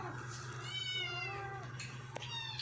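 A cat meows in a home, giving a couple of drawn-out, close, clear calls over a steady low hum, with faint voices in the background.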